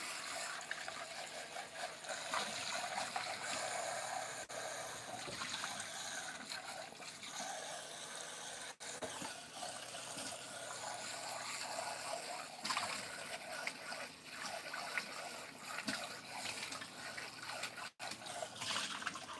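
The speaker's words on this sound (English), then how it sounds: "let me wash this out really, really quick" Tap water runs steadily into a sink while something is rinsed out in a kitchen, a soft continuous splashing hiss with faint clinks, at low level throughout with no talking.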